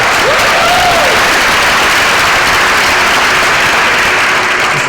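A convocation audience breaks into loud, continuous clapping that fills the room evenly throughout, with no talking over it.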